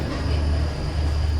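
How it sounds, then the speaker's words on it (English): A Tejas Express double-decker AC train running through a long tunnel, heard from inside the coach as a steady, loud low rumble and roar with no speech. "the train is passing through a tunnel only"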